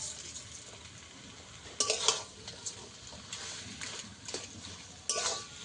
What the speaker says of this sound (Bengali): এটা ভালো করে আমি একটু মিশিয়ে নেব। নিয়ে কিছু সময় আরেকটু নেড়ে নেব।